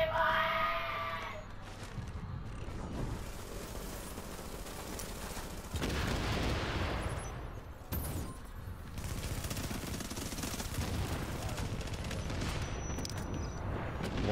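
Grenade blast and rapid gunfire in The Division video game, with a burst of shots near the start and dense, rumbling combat noise continuing throughout.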